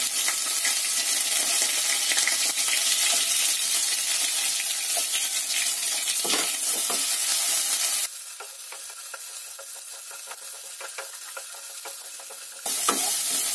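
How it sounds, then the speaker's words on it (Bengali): Onions and green chillies frying in oil in a wok, sizzling loudly and steadily the whole way through. The hiss drops back for a few seconds near the end and then comes up again. "এবার আমি এতে পেঁয়াজটা দিয়ে দেবো"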